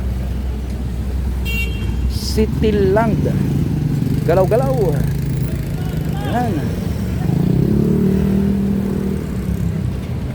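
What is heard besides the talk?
motorcycles and tricycles at a tricycle terminal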